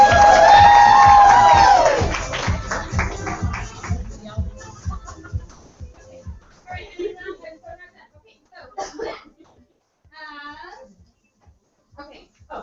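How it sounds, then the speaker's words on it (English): A crowd at a Thursday night motivational meeting bursts into loud applause and cheering. It swells for a couple of seconds, then thins into scattered claps, shuffling and murmuring voices. "let's give them a round of applause."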